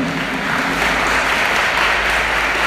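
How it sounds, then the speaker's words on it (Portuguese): A church prayer-group congregation applauds during a sermon: dense, steady clapping that holds at an even, loud level for the full stretch with no voices above it. "Pode aplaudir Jesus."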